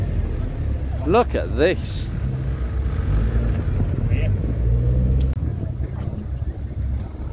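A Ford Puma's engine rumbles steadily as the car arrives at a Ford gathering outside the Motorist, a low continuous drone under outdoor chatter, with a couple of short bird chirps early on.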